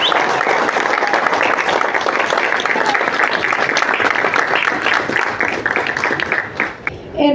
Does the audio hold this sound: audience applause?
yes